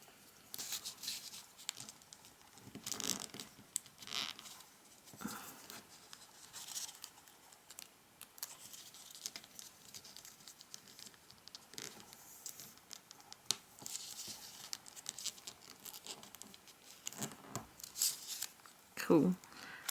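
Thick layered paper being folded into an origami egg makes faint, close crinkling and rustling at irregular intervals, under intermittent talking.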